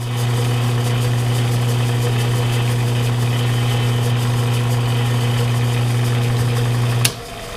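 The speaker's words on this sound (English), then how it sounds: "Go in there with a 3/8 90-degree chamfer bit." A Bridgeport milling machine runs steadily with a loud, even motor hum while cutting a chamfer into a drilled hole with a 3/8-inch 90-degree chamfer bit, and a sharp clank comes near the end.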